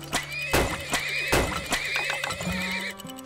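Horses neigh and whinny in the Turmoil oil-drilling video game, several loud close calls laid over game music tones and faint hoof clip-clops.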